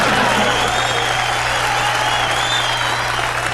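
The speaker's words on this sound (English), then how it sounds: "I don't know why you guys are applauding enthusiastically." A studio audience applauds enthusiastically, a steady dense wash of clapping with some crowd noise and faint cheering throughout, loud and continuous with no pause.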